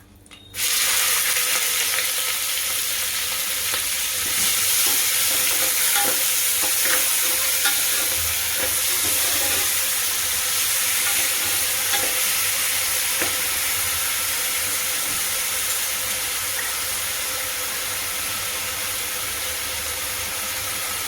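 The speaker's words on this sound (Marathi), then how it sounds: "फोडणी तडतडली की आपण कांदा घालूया" Onions added to crackling spice tempering in hot oil for chicken curry, a loud steady sizzle that starts abruptly and hisses on continuously, close up, with faint stirring scrapes.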